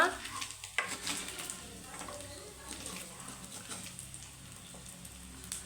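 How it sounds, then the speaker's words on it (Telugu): Chicken pieces frying in a pan give a soft, steady sizzle with a few sharper clinks of stirring early on, fairly quiet and close. "ఇంకా కొంచెంసేపు కూడా వేయించుకోవాలండి"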